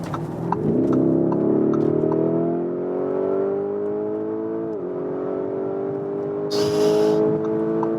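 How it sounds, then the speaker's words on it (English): A Lamborghini Urus Pearl Capsule Edition cruises at about 200 km/h on the autobahn, its engine drone climbing steadily with a brief dip at a gear change, loud inside the cabin with no talking. "once again 200 kilometers an hour, and look at that, how smooth this car is staying here in this long bend"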